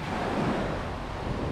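Surf breaking on a beach during shore fishing at low tide, a steady broadband wash with wind noise over the microphone, continuous and fairly loud throughout with no voices.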